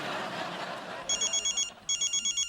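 Telephone ringing in a Hindi TV comedy household scene: after a noisy stretch of background chatter and laughter, the ring comes as two bursts of rapid, repeated electronic trills. They are clear and fairly loud.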